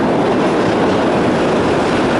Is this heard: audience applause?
no